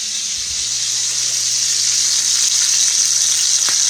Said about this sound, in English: Our little filet is cooking.